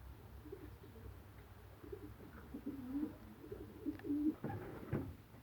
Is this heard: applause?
no